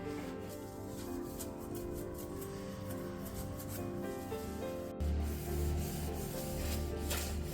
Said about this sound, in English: I used a scrubber and a basic cleaning mix to scrub them down